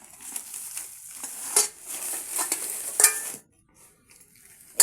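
A newly bought cooking pot handled in a kitchen, giving close, continuous rustling and scraping with a couple of sharp metallic clinks, then a near-silent pause.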